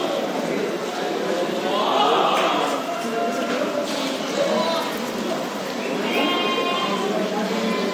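Goats bleat repeatedly amid a busy crowd at the Deonar goat market, the calls rising over a constant murmur of many voices and market chatter, some near and some farther off.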